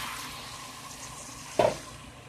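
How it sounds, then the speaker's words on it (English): Two cups of milk poured into a pan on the stove give a short splashing gush partway through, over a quiet kitchen background. "I've got 2 cups of milk that I'm going to pour in here."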